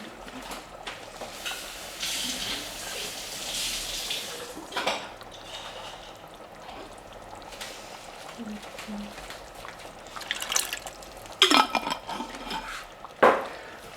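Water splashed and swirled inside an empty tin can to rinse out leftover tomato sauce during spaghetti cooking, with hissing washes of water and a few metallic clinks and knocks near the end; a person talks over it.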